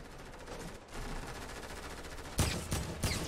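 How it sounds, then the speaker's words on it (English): Gunfire in Fortnite's Creative free-for-all mode: a continuous rattle of rapid automatic shots, then three louder, sharper bursts spaced close together near the end. "Poach started shooting at me, so I turned and started shooting at Poach, and then you shoot me"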